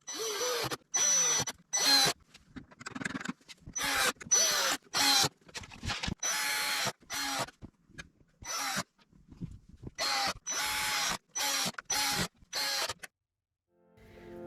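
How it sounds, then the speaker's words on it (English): Cordless drill with its clutch set to 6 driving #6 by 3/4-inch panhead screws to attach wheels to a wooden plant stand: repeated short whirring bursts separated by pauses, close and fairly loud, no talk. "I've adjusted the clutch to 6 so I don't overdrive my screws"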